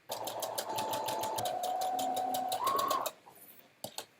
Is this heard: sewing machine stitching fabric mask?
yes